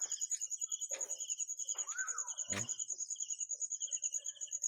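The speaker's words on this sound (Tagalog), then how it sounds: "Rinig yung huli ng ibon dun sa gawiro, no?" Birds chirp and call in short bursts before dawn over a constant, pulsing chorus of crickets in a quiet, dark setting.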